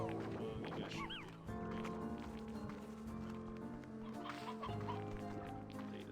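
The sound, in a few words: chickens clucking and eating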